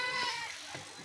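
A large purebred Makhi Cheeni goat bleats once, briefly, at night on a goat farm, under steady broadband background noise.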